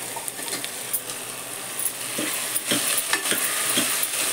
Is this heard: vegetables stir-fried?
yes